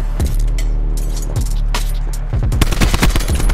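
Shotgun fire in the video game Call of Duty: Black Ops 4, with several sharp, loud blasts spread through a busy, noisy firefight, some close together near the end.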